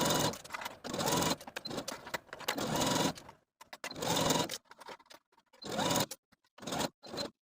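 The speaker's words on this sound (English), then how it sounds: "We're going to start stitching at that center back of the bodice, back stitching to secure, and continuing with a 5/8 inch seam allowance" A sewing machine runs in bursts of rapid stitching along a skirt and bodice seam of a jersey wrap dress, with short backstitch runs and brief pauses between, close and fairly loud.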